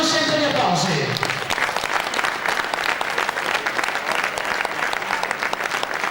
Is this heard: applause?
yes